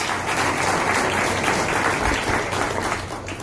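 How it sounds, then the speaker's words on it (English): An audience at a boxing press conference for Julio Cesar Chavez Jr. applauds steadily, producing a dense wash of clapping from many hands that stays loud and even for several seconds. "Please give a round of applause to Julio Cesar Chavez."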